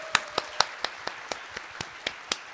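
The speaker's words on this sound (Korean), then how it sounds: "여러분 이걸 박수 한번 주세요" Sparse, evenly spaced claps at a Lost Ark gaming event, about a dozen sharp single hits in a steady rhythm, fairly faint and slightly distant, with no talk over them.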